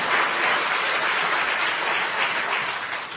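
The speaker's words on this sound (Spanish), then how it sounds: "Si quieren aplaudir, aplaudan." Steady applause from a church congregation during a Spanish-language sermon, a dense wash of clapping at moderate level that tapers slightly toward the end.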